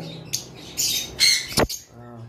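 A lutino opaline lovebird gives loud, close, harsh squawks, several short bursts in quick succession with a sharp rising call near the end.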